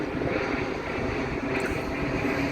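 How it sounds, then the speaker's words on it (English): Steady broad roar of airplanes passing overhead on a flight path above an outdoor park, continuous and fairly loud with wind buffeting the microphone, no voices. "planes keep going over"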